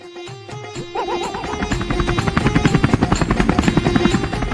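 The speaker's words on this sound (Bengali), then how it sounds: "হেলিকপ্টার আবার কোথায় যায়?" A helicopter passes overhead with a steady rotor thump that grows louder and more rhythmic as it comes closer, loud and alone.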